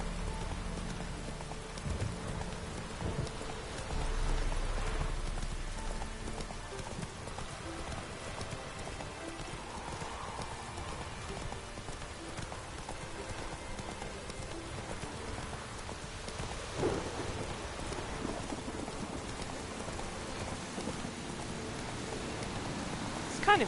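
Steady rain patters over hoofbeats in The Witcher 3 video game as a horse is ridden across a battlefield, with an occasional neigh; no distinct thunder stands out, and a low rumble sits under the continuous wet hiss.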